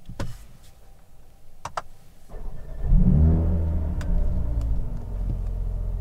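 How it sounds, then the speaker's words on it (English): Mercedes-AMG CLA 35 Shooting Brake, set in Sport Plus, is started by push button: a few clicks, then the engine fires with a loud close burst of revs that settles into a steady, throaty idle. "and we will start the engine."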